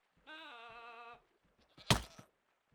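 A goat in a video game gives one drawn-out, buzzy bleat, followed after a short pause by a brief sharp knock or thud, all alone and fairly faint.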